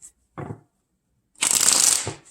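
Tarot cards are shuffled by hand in short, crisp bursts: a brief riffle, a pause of near silence, then a longer, louder, flicking shuffle close to the microphone.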